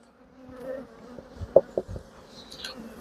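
Honey bees buzz around an open hive box during a swarm inspection, a close insect hum with a few sharp knocks and bumps from the hive equipment.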